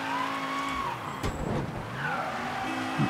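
Car in the video game Mafia III driving with a steady engine drone, then skidding with a brief tire squeal and scraping swerve midway, close and loud, with no talk.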